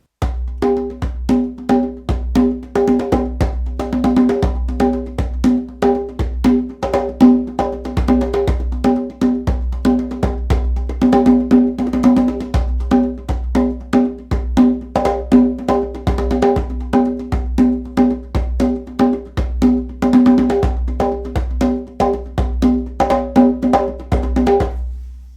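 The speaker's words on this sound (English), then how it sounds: "It's a 3-3-2 rhythm. I also call it a mambo." A hand drum plays a steady 3-3-2 mambo rhythm with sharp, evenly driving strikes, close and continuous for the whole stretch with no talking.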